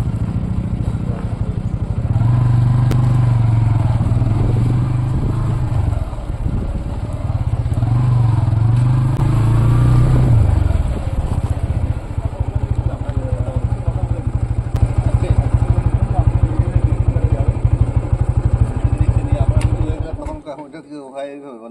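A motorcycle engine drones and revs during a bike trip through the Dooars forest area, a close, steady mechanical rumble rising and falling in pitch, with people talking over it until it cuts off near the end.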